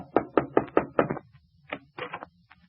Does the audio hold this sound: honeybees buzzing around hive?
no